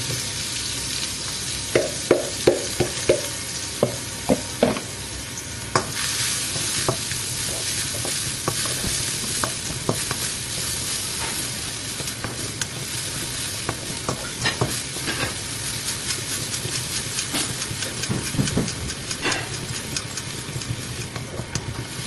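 Red onions stir-fry in smoking hot oil in a pan while rice noodles are being made, giving a loud continuous sizzle with repeated scraping and stirring clacks, close up and without talk.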